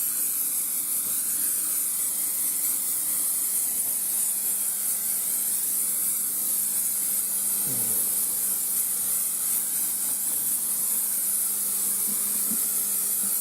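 Aerosol Gunk degreaser sprayed onto an engine, a steady continuous hiss held for the whole stretch at close range with no talk.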